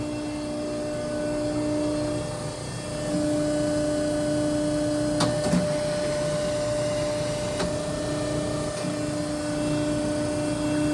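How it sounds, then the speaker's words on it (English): A 75-ton Pacific Model 75PF Pressformer hydraulic press with a 10-inch stroke runs steadily, giving a constant electric hum and drone with a few faint clicks partway through and no voices. "a 75-ton Pacific hydraulic Pressformer."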